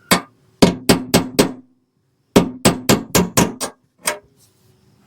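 A hammer drives a small steel punch through the steel core of a rivet on a Playcraft tritoon pontoon's underskin: sharp metallic blows in quick bursts, one, then four, then six, then a lone strike, loud and close.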